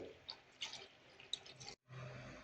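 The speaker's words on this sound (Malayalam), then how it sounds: "ആവശ്യത്തിന് ചൂടുവെള്ളം കൂടെ ഒഴിച്ചു കൊടുക്കുക." Hot water poured into a pot of Kerala-style mackerel curry soured with kudampuli, heard as close dripping and splashing liquid with small bright drops, briefly stopping before a steady pour resumes.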